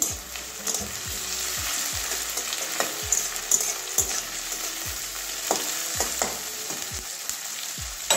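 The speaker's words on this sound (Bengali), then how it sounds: "পেঁয়াজটা নরম হওয়া পর্যন্ত ভাজবো" Onions frying in a pan with slit green chillies for a Bengali pointed gourd dish, a steady close sizzle broken by repeated scraping stir strokes at a regular rhythm, with no voices.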